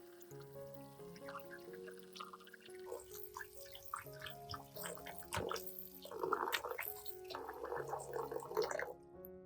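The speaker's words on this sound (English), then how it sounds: "Next, add enough water to completely submerge the onions." Water pours and splashes into a bowl of onions in uneven bursts, growing louder toward the end, over soft background music.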